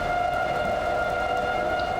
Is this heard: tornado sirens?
yes